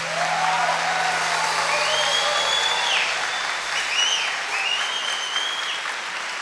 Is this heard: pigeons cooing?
no